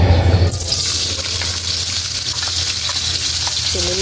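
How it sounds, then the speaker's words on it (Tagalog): Potatoes, hotdog and carrot fry in a pan with a steady, close crackling sizzle throughout, opening with a short burst of louder hiss and a few faint clinks later. "Ipa-fry lang muna natin hanggang maging golden brown."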